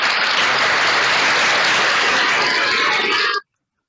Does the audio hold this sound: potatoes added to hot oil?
no